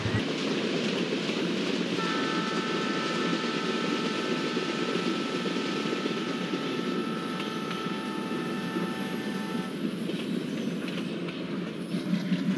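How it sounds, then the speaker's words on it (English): A twin Indian Railways WDM-2 diesel locomotive pulling an express train rumbles and chugs steadily nearby, with a long sustained horn-like tone sounding in the middle over the continuous engine noise. "Enjoy the beautiful chugging sound of EDWDM2 locomotive."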